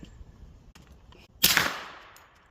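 A single loud shot from a Ruger LC Carbine in 10mm firing Winchester 180 grain range ammunition outdoors, a sharp crack followed by a long decaying echo, after a stretch of low background noise.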